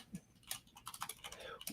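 Light, quiet typing on a computer keyboard, a loose run of soft key clicks at irregular intervals, close and faint, with no talking.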